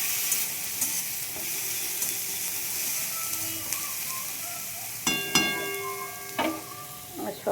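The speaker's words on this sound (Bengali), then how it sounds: "লঙ্কাটা একটু ভালোভাবে ভেজে নেব" Chili and fried onion sizzle steadily in hot oil in a pan for a home-style duck egg curry, with a constant frying hiss and a few sharp stirring clatters toward the end.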